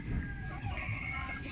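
A young labuyo rooster, a Philippine wild junglefowl, clucks in short low bursts in a backyard, close and fairly quiet, with faint background noise and no clear talk.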